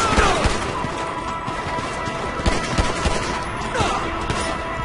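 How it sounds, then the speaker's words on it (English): Gunfire during a gunfight in the video game GTA 5 Online, with a rapid, continuous fusillade of sharp shots and occasional crashes, loud and close throughout. "This guy just starts shooting, so there's nothing else I can do besides start capping people."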